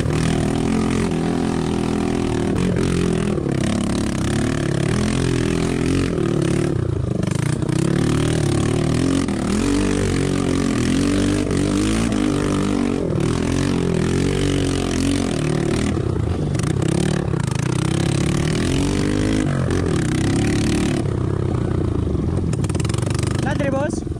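A Kawasaki KLX 150 dirt bike with no muffler runs along a hilly trail, its loud, raw engine revving and rising and falling continuously, with rattling and clatter mixed in and a rider's voice heard over it.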